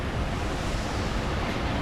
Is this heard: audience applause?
no